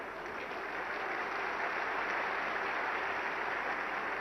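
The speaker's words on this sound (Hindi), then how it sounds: "इतने धीरे से ताली" Steady applause from a political rally crowd at Rashtra Prerna Sthal in Lucknow, a dense even wash of clapping that holds at a constant moderate level throughout with no voices.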